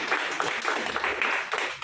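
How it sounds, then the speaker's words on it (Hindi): Seminar audience in Vasco da Gama, Goa breaking into applause, a quiet, distant patter of clapping hands with a few sharper claps rising and falling over the short stretch, no talk. "और इस तेल के लिए जबरदस्त ताली हो जाए"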